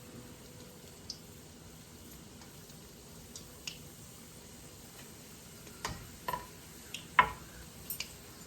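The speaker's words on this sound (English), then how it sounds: "I'm going to go ahead and drop a couple of egg rolls in. Egg rolls are going to fry for 3 to 4 minutes." Crab rangoon egg rolls deep frying in hot oil give a faint, steady sizzle with scattered sharp pops and crackles that grow more frequent toward the end.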